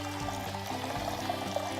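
A steady stream of water pours into a container for pickling calçot onions, a continuous close, bubbling trickle with no voices.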